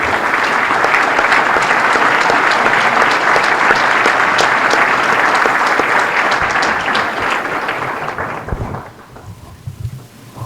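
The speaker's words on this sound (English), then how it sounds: "receive a well-earned round of applause" Loud, dense applause from a large audience at a high school athletic hall of fame ceremony, a sustained roar of clapping that holds steady for about eight seconds, then thins and dies out into a few scattered claps and room noise.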